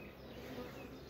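Honeybees at an open spring beehive with brood frames, a dense steady buzzing hum from many insects close by that stays constant throughout.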